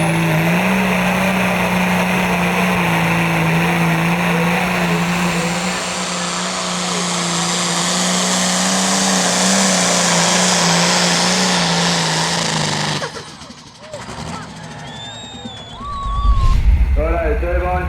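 A turbine-powered vehicle spools up while held on the transmission brake, a loud, steady, high-pitched whine and roar that cuts out sharply, followed by quieter mixed noise and a low rumble at the end.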